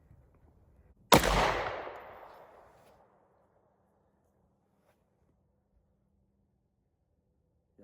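A single sharp, loud 10mm pistol shot, from a Sig P320 XTEN or Springfield XDm fired off a bench rest outdoors, cracks once and then trails off in a decaying echo into near silence.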